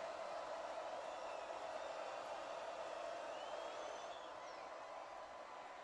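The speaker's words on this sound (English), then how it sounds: "And here comes the crowd." Stadium crowd at a college football game between Liberty and Appalachian State during a third-down play, a steady broad roar of many voices swelling and holding loud before easing slightly near the end.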